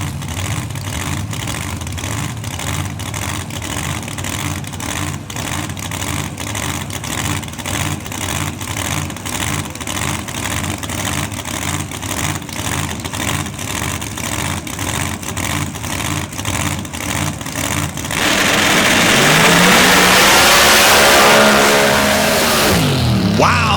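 Dirt drag racing vehicles launch hard with heavy tire spin, a loud sustained engine roar with pulsing revs that swells into a louder wash of spinning tires and spraying dirt near the end.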